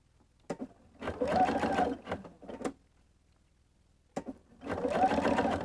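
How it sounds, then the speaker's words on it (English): Domestic sewing machine stitching piping onto a shirt front, in short bursts of rapid mechanical whirring separated by pauses, close and clear. "when we sew it onto the front of the shirt, it'll actually sew it in place"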